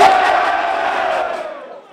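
A high school football crowd at a Friday night game roars and cheers loudly together, a dense wall of voices that holds steady and then fades away over about two seconds.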